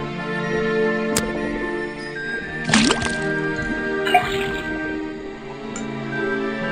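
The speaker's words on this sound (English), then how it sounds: "Then tap the faucet." Liquid drips from a tapped faucet into a cauldron in the video game Detective Grimoire, with a couple of soft wet drips and squishes over a steady sustained musical background, fairly quiet and without talk.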